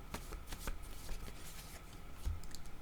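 Tarot cards handled and shuffled, a soft papery riffle with quick flicks and taps, close and quiet, running steadily for a few seconds.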